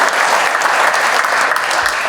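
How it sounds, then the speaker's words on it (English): An audience at a sports council summit claps in a dense, loud burst of applause that holds steady for a couple of seconds. "Let's give them all a round of applause."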